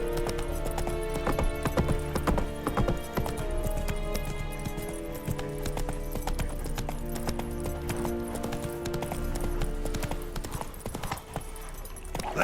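Horse hooves clip-clop at a steady trotting rhythm in The Witcher 3 video game, loud and continuous throughout with game ambience underneath.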